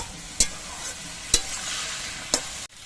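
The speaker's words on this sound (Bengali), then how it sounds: "এবার এই নুন দিয়ে সবজিগুলোকে আরও কিছুক্ষণ ভেজে নিতে হবে" Vegetables with salt frying in a pan for a fish curry, with a steady low sizzle and three sharp scrapes of a spatula stirring them at roughly one-second intervals, close and fairly quiet.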